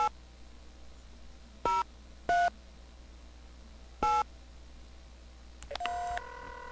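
Touch-tone dialing on an old 1990s cell phone in The X-Files game: a few separate beeping keypresses spaced apart over a low steady hum, then a quick cluster of tones near the end.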